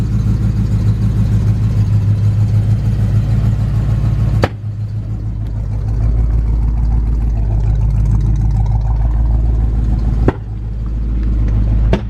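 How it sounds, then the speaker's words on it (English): A Foxbody Mustang engine with a misfire runs close by at a loud, steady drone, rising as it is revved, with two abrupt clicks breaking the hum. "Give it a couple revs."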